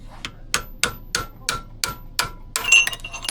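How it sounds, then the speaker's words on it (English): A cold chisel struck repeatedly with a hammer to split a collar during the teardown of a 1982 Polaris Cutlass SS snowmobile, with about eight sharp, evenly spaced metallic blows close by, ending in a scraping rattle. "you hit it with the cold chisel, splits are open, stretches everything"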